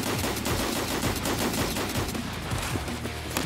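Dense, continuous automatic gunfire from Escape from Tarkov, rapid overlapping shots and bursts filling the whole stretch at high, steady loudness with no speech over it.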